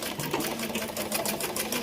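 Sewing machine stitching a vegetable bag, a fast continuous mechanical whir with rapid needle rhythm, close and steady.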